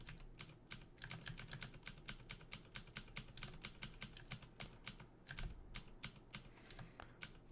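Rapid computer keyboard presses clatter in quick, uneven bursts while tabbing through a Dungeon Crawl Stone Soup game, close up and quiet, with no talking.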